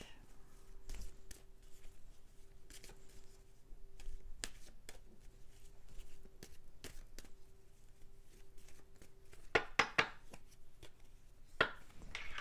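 A tarot deck is shuffled by hand, with soft taps and slides of the cards, quiet and close, building to a few louder riffling bursts near the end.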